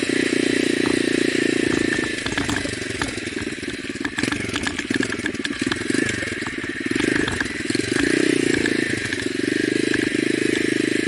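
Motorcycle engine running loud and close while a rider prepares a wheelie, a steady mid-pitched drone with rattling, swelling in revs around the middle and end as the clutch is popped.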